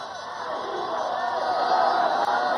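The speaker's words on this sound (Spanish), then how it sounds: "Que se sienta nuevamente ese aplauso y esa alegría para recibir al presidente de los colombianos" A large crowd at a political event in Colombia applauds and cheers to welcome President Gustavo Petro, a steady roar of clapping, shouts and babble that stays fairly even throughout, heard from a distance.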